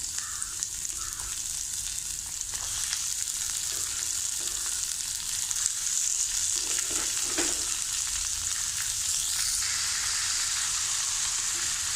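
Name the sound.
onions and beans frying in oil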